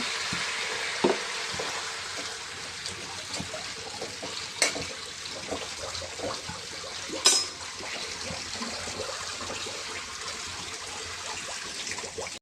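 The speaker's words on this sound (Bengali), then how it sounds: "জল দিয়ে দিই সামান্য।" Water poured into a hot pan of cooking fish sets off a loud, steady sizzle and crackle that holds throughout, with occasional utensil clinks and bumps on top and no speech.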